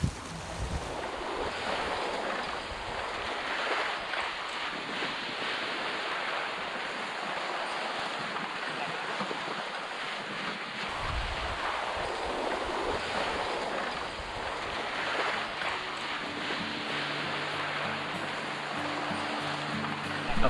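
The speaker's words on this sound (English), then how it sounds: "turn the engine off and listen to just the sound of the waves" Ocean waves from a sailboat drifting with its engine off off the coast of Maine: a steady wash of surf and wind noise that rises and falls softly and continues for about twenty seconds, with no talking.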